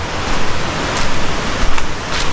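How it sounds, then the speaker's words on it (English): A river stream in Jamaica rushes steadily toward the Blue Hole, a close, loud broadband wash of flowing water with faint gusty bursts, no talk. "You can follow this stream all the way to the Blue Hole."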